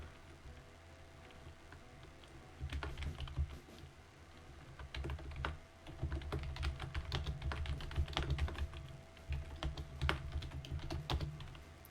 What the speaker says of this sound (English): I shouldn't try to say that while I'm typing